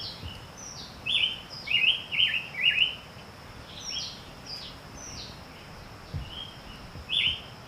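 Migratory birds chirping in woods with ripening fruit trees: bursts of short, bright chirps repeat clearly through the clip, some nearer and louder, others faint and distant, over a steady soft outdoor background.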